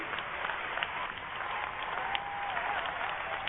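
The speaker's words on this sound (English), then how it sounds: "We don't need to hear any applause for that crap" Applause from an audience in a recording played over a talk radio broadcast, a steady dense patter of many hands filling the clip at moderate level, thin and band-limited as if heard through a phone or broadcast line.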